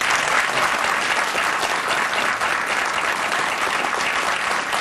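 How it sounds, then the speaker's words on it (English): A studio audience on a Fox and Friends morning broadcast breaks into steady, dense applause, a continuous wash of many hands clapping at even loudness throughout. "Round of applause for that."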